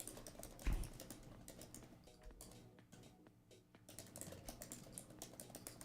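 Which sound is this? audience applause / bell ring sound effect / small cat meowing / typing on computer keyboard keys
typing on computer keyboard keys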